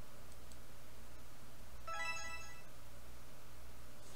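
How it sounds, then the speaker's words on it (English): A phone ringtone from the Amnesia Memories visual novel chimes briefly, a short melodic burst of bright tones about half a second long over a low steady background hum, with no voices. "Did your phone wake you up?"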